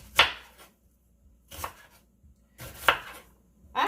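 White onion being handled and chopped on a board for Haitian epis: three or four sharp, close knife strikes, each followed by a short scrape, separated by quiet pauses.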